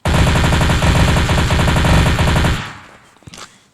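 Submachine gun fire in Counter-Strike: Source, a loud rapid burst of automatic shots for about two and a half seconds, then fading echoes and a couple of faint clicks.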